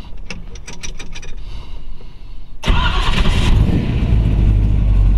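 A 1932 Ford Roadster Hi-Boy with Brookville steel body and a 327 Chevy engine cranks with rapid ticking starter clicks, then fires and settles into a loud, deep, rumbling idle close by.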